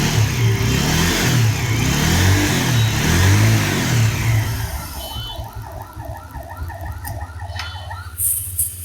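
A Bajaj Pulsar motorcycle engine revs loudly up close in rising and falling surges, then eases to a lighter, uneven idle with a few sharp blips near the end.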